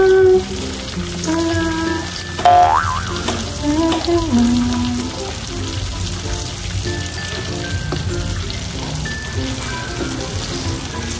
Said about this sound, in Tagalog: Tutunawin ko lang po muna itong star margarine.